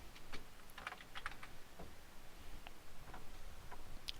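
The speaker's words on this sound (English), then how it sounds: "you're going to type in your first and last name" Typing on a computer keyboard while entering a first and last name into a document footer: scattered, quick key clicks in uneven bursts, close and fairly quiet over a low room hiss, with no talking.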